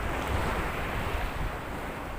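Rough surf at the beach of De La Paz Pulot gives a continuous, even roar of breaking water. Wind rumble sits underneath it and no one speaks.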